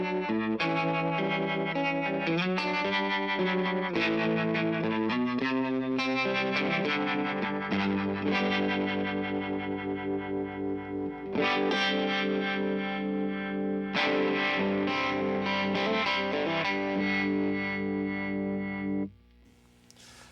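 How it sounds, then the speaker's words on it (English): Electro-Harmonix effects unit set to a rotating speaker sound on a guitar, with chords swirling and pulsing in a warbling, chorus-like wash, played steadily for about nineteen seconds before fading out. "Gives you the rotating speaker sound."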